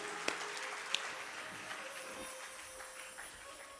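A crowd claps with both hands in sustained applause, a soft, distant-sounding patter with a couple of sharper individual claps near the start.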